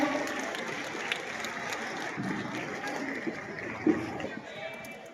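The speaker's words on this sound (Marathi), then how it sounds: "विद्यार्थ्यांनी टाळ्या वाजवायच्या आहेत." Students at a tech fest inauguration applaud, a steady wash of clapping from an indoor crowd that holds throughout, with murmuring voices mixed in.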